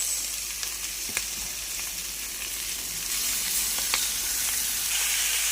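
Chicken pieces, including leg pieces, sizzle and fry steadily in hot oil in a pan for a curry, a dense continuous crackle with a few sharp pops and stirring scrapes, close and without talk.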